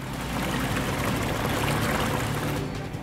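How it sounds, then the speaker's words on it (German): A pump running alongside a generator at an Alaskan gold-mining site fills a pond, producing a loud, continuous rushing gush of water with a steady mechanical rumble underneath. "Der Teich wird gefüllt, Pumpe und Generator laufen"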